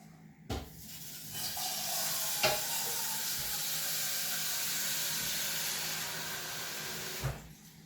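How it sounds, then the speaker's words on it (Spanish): Caramel pours into a silicone mould for a microwave dessert, giving a steady hissing, sizzling wash that starts with a tap, holds for several seconds and ends with another light knock. "Pues vamos a echar el caramelo."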